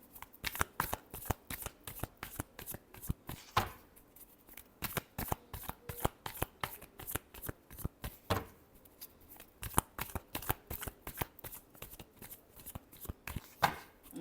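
A deck of tarot cards is shuffled by hand in a quick run of crisp riffling bursts, close and clear, repeating steadily with brief pauses between them.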